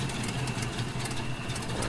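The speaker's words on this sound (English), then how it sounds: "Okay, let's stop the engine." An idling truck engine from the Spintires Mudrunner game holds a steady low rumble with faint knocking, alone without talk, before being switched off.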